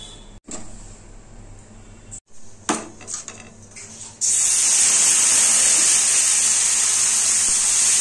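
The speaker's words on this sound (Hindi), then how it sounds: "तवा गर्म हो गया है, तवा को हमने तेल से ग्रीस करेंगे।" A hot tawa greased with oil for semolina dosa: metal clinks and scrapes at first, then a sudden loud steady hiss of oil sizzling on the griddle that continues to the end, close and with no talk.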